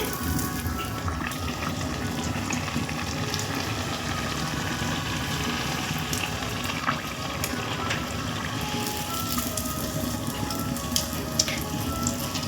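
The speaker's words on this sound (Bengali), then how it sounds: "এই দেখুন পিঠেটা ভাজা হয়ে গেল। আর বাকি পিঠেগুলো আমি এইভাবে ভেজে নিব।" Poa pitha, puffed rice cakes, frying in hot oil, a continuous dense bubbling sizzle at moderate level throughout with faint occasional clicks.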